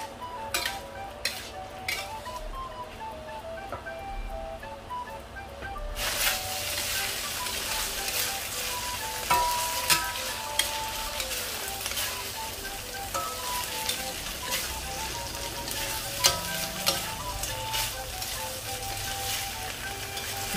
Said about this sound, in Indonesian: Kita aduk sampai rata dan bumbu meresap ke kentang dan ati ampelanya.